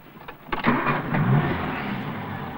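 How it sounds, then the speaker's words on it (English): A car engine cranks and catches during a 1980s UK driving lesson, with a brief starter whirr followed by the engine settling into a steady idle, heard close up inside the car. "Start the engine."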